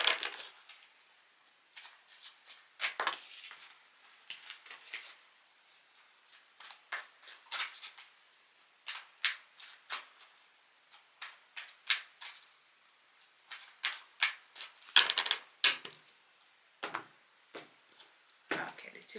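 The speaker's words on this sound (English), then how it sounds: "we will just cut the deck" A tarot card deck is cut and shuffled close up. Short crisp riffles and card slaps repeat in uneven bursts over about nineteen seconds against a silent background.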